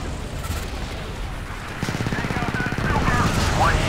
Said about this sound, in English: that's a very powerful chain gun